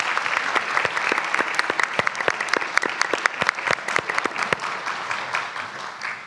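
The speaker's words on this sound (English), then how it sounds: "I appreciate the applause if we're all doing something." An audience at a civil rights anniversary panel gives steady applause, a close, dense patter of many hands with sharp individual claps standing out, easing off slightly near the end.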